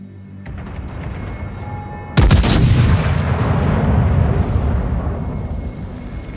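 Battleship main guns fire in a single massive, close salvo in the naval combat game World of Warships, USS Georgia class, followed by a long rumbling decay under steady engine and sea ambience.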